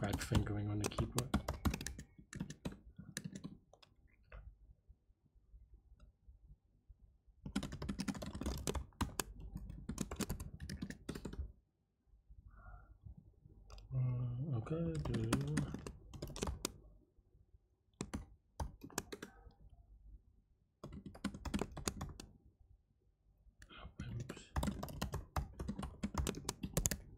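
Computer keyboard typing during a coding contest, dense bursts of rapid clicking keystrokes separated by pauses, close and clear, with someone talking during the quieter gaps.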